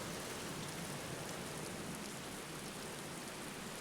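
Steady rain in the game Black Mirror hisses evenly throughout, a dense wash of drops with no voices or other sounds breaking through.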